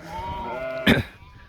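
Freshly shorn sheep bleat outdoors in the wind, one sustained wavering call followed by a short sharp burst, close and loud over a low wind rumble.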